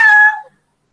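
A voice imitating a cat's meow, one short bright mewing call that fades quickly into silence, close and loud.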